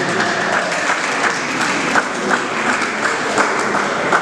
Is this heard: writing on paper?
no